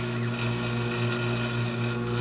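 A sewing machine stitching a zipper into a slipcover, a steady close mechanical hum and whir running continuously without pause, no talking.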